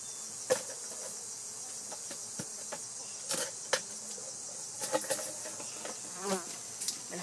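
Bees hum continuously around hive frames pulled out during a honey harvest. The buzzing is steady and close, broken by occasional light knocks and bumps from handling the frames, and no one speaks.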